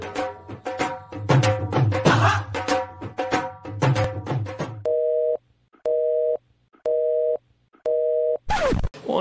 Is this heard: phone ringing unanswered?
yes